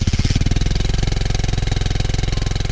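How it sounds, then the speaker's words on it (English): Engine knocking, a loud, fast, steady mechanical pounding with an even rapid rhythm throughout, close and alone. "It was the sound of engine knocking."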